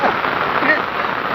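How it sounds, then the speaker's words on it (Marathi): Heavy rain falls steadily at a riverside, a dense, even hiss of drops close by with no pauses through the short stretch. "पाऊस भरपूर यायला लागला आहे."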